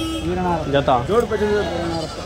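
A goat at the Kadiri Tuesday goat market bleats loudly and close, a wavering cry rising over market chatter and people talking nearby.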